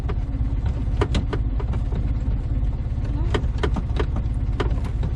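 A classic Fiat 500 with a manual gearbox runs in a low, steady engine chug, with sharp knocks and clunks from the car breaking through at irregular moments.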